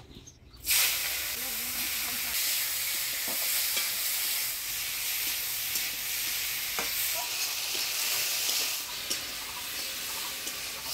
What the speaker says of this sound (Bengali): চিংড়ি মাছটা ভাজি নেব।